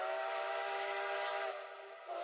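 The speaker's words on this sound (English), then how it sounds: "we hear the Paris train" A Paris train sounds a sustained whistle, a steady harmonic tone held loud for about a second and a half before it drops to a quieter rumble, with a brief high hiss near the middle.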